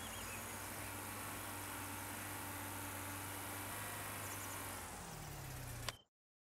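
Road traffic in the video game Farming Simulator 19 comes through as a steady, faint engine drone with broadband rumble that holds evenly, then drops in pitch and cuts off abruptly into silence.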